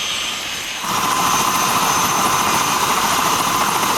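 A Park Police helicopter spins up in Washington, D.C., its steady loud rotor and turbine drone swelling abruptly after a quieter first second and then holding constant, with no talking.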